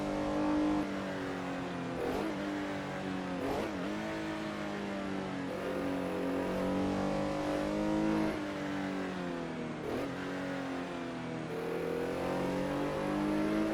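A race car engine howls at high revs in top gear around a technical 1968 Sauerlandring circuit in Assetto Corsa, a sustained steady drone with slight pitch dips through the turns, heard alone.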